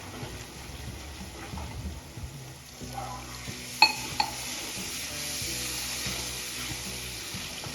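Steady sizzling of spices frying in a pan for an aubergine and potato curry, with a couple of sharp clinks of a utensil midway and a low hiss throughout.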